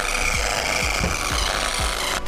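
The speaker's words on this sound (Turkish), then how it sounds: "Zımpara atıyorum." Sandpaper rubbed back and forth on a surface at a building site, a steady run of about five raspy strokes at an even rhythm, close and fairly loud, with no talk.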